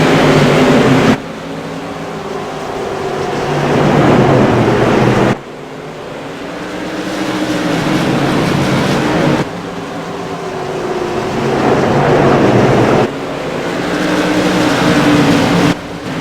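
A pack of CAN-AM Tour Modified race cars roars off at the start of an iRacing race at Oxford Plains Speedway, loud sustained engine drone rising and shifting in long surges, with no talk over it.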